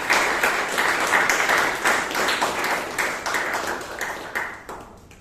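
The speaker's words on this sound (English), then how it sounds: "Toastmaster Chiranth, please give a huge round of applause for Toastmaster Chiranth." A crowd claps in steady, dense applause that fills the whole stretch, fading slightly toward the end.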